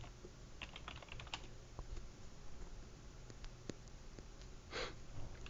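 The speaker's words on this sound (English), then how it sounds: "Accidentally hit E because I'm typing around my other microphone" Light typing on a computer keyboard during a Minecraft UHC session, soft scattered key clicks under a steady hiss with faint breathing, fairly quiet and with no talk.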